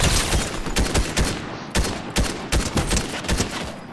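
Rapid bursts of gunfire in a Fortnite duos match, a dozen or so sharp loud cracks in quick irregular clusters, close and dominant with no talk.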